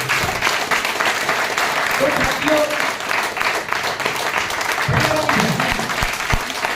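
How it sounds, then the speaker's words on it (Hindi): An audience at a motivational talk claps steadily throughout, a dense sustained round of applause with a voice speaking over it. "एक बार मेरे नाम की ताली बजा दो"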